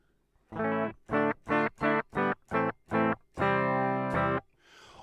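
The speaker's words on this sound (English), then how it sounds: "I'm just playing through my LTD 6-string today" Distorted electric guitar, an LTD six-string, plays a series of short chugging chords followed by one longer held chord, close and loud with effects coloring the tone.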